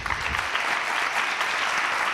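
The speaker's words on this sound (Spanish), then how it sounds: "Y que siga el aplauso para Andrés Llena." An audience at an interview event claps steadily, a dense, even wash of applause lasting a couple of seconds.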